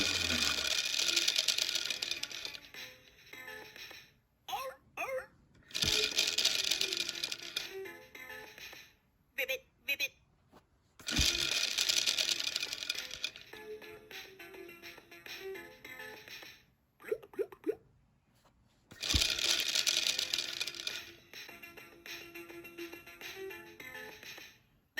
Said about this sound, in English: But spinning the wheel is so fun